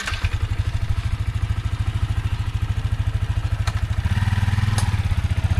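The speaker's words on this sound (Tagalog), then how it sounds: "Ba't kaya naglagitik na naman? Kulang na naman sa langis." A motorcycle engine low on oil idles close by with a rapid, steady mechanical ticking and clatter that rises slightly in intensity toward the end, with no voices.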